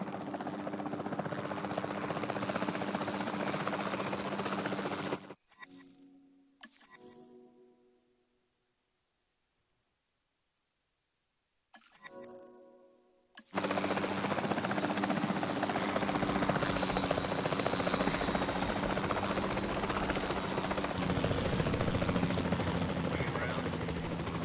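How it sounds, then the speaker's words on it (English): Capture team helicopter in Jurassic World Evolution 2, a loud continuous rotor roar that cuts out for several seconds mid-flight, then resumes just as strongly with brief whirring transitions, under light game sounds. "Then the sensible thing is to take a capture team helicopter."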